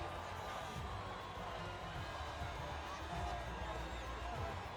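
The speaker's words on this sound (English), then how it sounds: "The crowd roar their approval for Yuki Tsunoda." A race crowd in the F1 25 video game cheers as the checkered flag falls, a dense, continuous roar with low rumbling underneath, sustained at an even level throughout.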